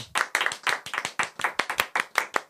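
Crisp, rhythmic hand clapping from an audience welcoming an introduced speaker, a quick run of distinct claps at a steady pace, near and clear with no voices.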